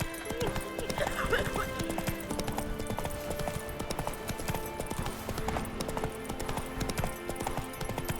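Horse hooves clip-clopping at a steady gallop rhythm in the Witcher 3 video game, with occasional whinnies over a busy game soundscape and faint background voices.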